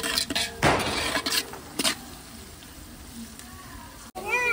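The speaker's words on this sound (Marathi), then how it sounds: "हे काय काय तेजपत्ता, जिरं आणि कांदा हे फ्राय करतो आपण" Bay leaf, cumin and onion frying in oil for chicken biryani cooked on a wood-fired stove, a low sizzle under several loud clattering stirs in the first two seconds, then quieter frying; no speech.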